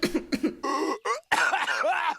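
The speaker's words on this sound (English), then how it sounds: "I have to cough." A person coughs several times in quick succession, close and fairly loud, followed by a short pause and then a burst of speech-like vocalizing.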